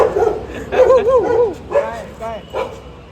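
Two dogs bark and yip in short overlapping bursts, close and fairly loud, with whiny tonal barks trailing off across a few seconds.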